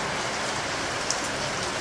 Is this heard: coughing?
no